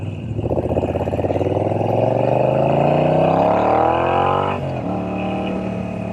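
Moto Guzzi V7 motorcycle engine pulling hard under acceleration, its rising harmonic drone climbing steadily in pitch for about four seconds before dropping sharply at a gear change and settling into a steady lower note.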